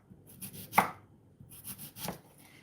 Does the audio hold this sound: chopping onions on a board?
yes